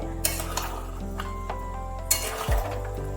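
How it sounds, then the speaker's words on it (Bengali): A spoon stirs potatoes cooking without water in a pan on a low gas flame for vegetarian alur dom, with scraping and occasional metallic clinks over a soft, steady sizzle, close by and without talk. "একটু নাড়তে হবে ভালোভাবে।"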